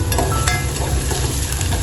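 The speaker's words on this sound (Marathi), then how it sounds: "तेलामध्ये कांदा घालायचा फोडणीला" Loud, close sizzling of onion frying in hot tempering oil, a dense steady crackle with occasional stirring scrapes and no voices.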